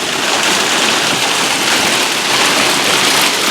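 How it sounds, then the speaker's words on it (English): A dense, steady roar of large hailstones, about 2.75 inches, pounding a surface in Ozark, Missouri, loud and continuous throughout without pause. "we in the middle of a hailstorm. Hail's raining down."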